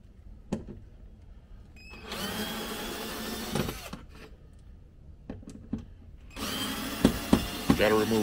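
A power drill whines in two sustained bursts of a few seconds each while removing housing screws, with scattered clicks and handling knocks between runs, close by.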